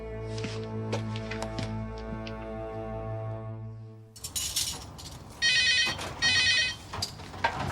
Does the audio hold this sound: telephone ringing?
yes